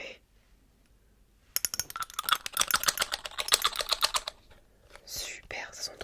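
Rapid keyboard typing, a quick burst of close clicks and taps lasting a few seconds, starting abruptly after a quiet moment, with faint breathy noise afterward.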